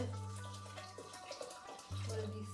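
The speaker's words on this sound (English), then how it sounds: "16 fluid ounce bottles of water." Bottled water pours into a pot in a steady splashing stream, pausing briefly before pouring resumes, close by and fairly quiet.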